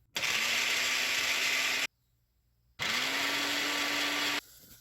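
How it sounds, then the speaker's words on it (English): Bullet blender whirring Splenda and cornstarch, two loud steady bursts of motor whine, each spinning up quickly and running about a second and a half with a brief silence between them. "I'm going to mix this in the bullet blender here"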